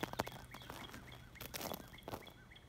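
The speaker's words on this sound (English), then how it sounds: "Hawks are screeching, birds are chirping." Birds chirping and hawks screeching outdoors, scattered chirps and short harsher cries at varying distances, faint and irregular, with no voices.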